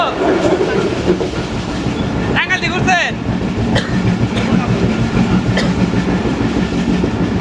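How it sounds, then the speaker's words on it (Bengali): A train pulls into a station in Tangail, its wheels clattering steadily and close by, with a short screech of squealing brakes partway through and people talking over the rolling noise. "অনেকক্ষণ অপেক্ষা করার পরে ট্রেনটা কিন্তু চলে আসছে"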